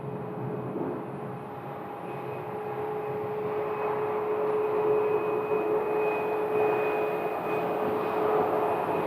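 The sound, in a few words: airliner taxiing at Phoenix Sky Harbor airport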